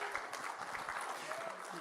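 Audience applause from a church congregation, a steady wash of many hands clapping continuously at moderate volume throughout.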